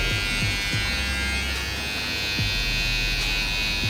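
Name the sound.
electric hair clipper trimming hair around the ear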